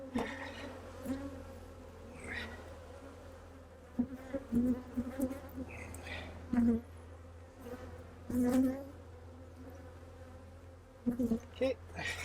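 Honeybees buzz densely around an open hive during an October oxalic acid treatment, a steady close swarm drone with louder individual bees zipping past the ear now and then.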